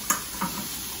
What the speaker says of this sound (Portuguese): segue aqui fritando